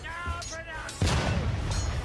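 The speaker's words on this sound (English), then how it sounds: "the timing of the cannon sound with the text is not right" A cannon-blast sound effect from an old intro: a deep, broadband boom that hits suddenly and rolls on with a rumbling tail, preceded by a brief tonal passage that may be music or a voice.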